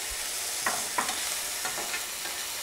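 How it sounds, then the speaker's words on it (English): Red peppers tossed into a hot pan for a Thai-style stuffed omelette, a soft steady sizzle with a few light stirring scrapes and clinks, fairly faint and with no talk. "So now we add on the red peppers."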